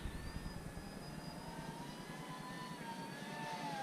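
An FMS A-10 Thunderbolt II 70mm RC jet flies past with a steady, fairly faint turbine whine whose pitch slowly drifts, heard from a distance outdoors.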